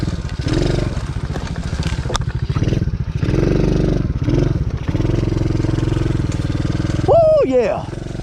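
A DB14 dirt bike engine runs steadily while being ridden off-road, loud and close with a continuous rumble that rises and dips, with a brief whistle-like sweep near the end.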